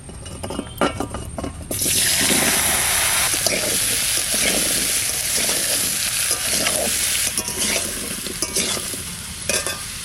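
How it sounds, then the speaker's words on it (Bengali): Raw elephant foot yam pieces hit hot oil left from frying river fish and burst into a loud, steady sizzle in the pan, with stirring clinks and crackles continuing without letup. "মাছ ভাজা হয়ে গেছে, ওই তেলের মধ্যে পাক তরকারিটা দিয়ে দিচ্ছি"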